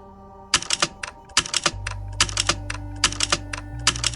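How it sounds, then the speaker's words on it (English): Computer keyboard typing in the video game Dead Letter Dept.: bursts of close, crisp key clicks in uneven clusters over a low steady hum. "I got a data entry job typing up junk that computers can't auto-read."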